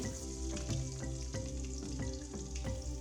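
Garlic and fenugreek seeds frying in oil for a Kerala-style fish curry, a continuous soft sizzle with regular stirring scrapes about twice a second, close and quiet, no voices.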